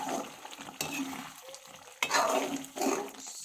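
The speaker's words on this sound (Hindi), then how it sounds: "सिर्फ हम इसको नीचे से कर रहे ताकि कहीं मसाला नीचे ना लग जाए।" A spoon scrapes and stirs thick liver masala curry in a pan, a few irregular scraping strokes over a soft sizzle, close and fairly quiet.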